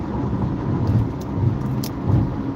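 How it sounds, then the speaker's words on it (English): Car driving on the Gratiot to I-94 merge, with a steady loud road and engine rumble inside the cabin and a few faint sharp ticks of gravel striking the windshield. "You can hear the gravel hitting the windshield, and that will crack your windshield."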